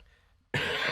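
A single harsh cough, sudden and loud, bursting in after a quiet moment and ringing out close to the microphone.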